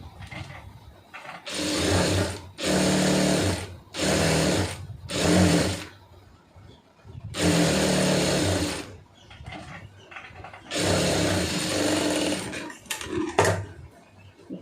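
A sewing machine stitches around a sleeve lining in a series of short, close, loud bursts with brief stops between runs and no talk.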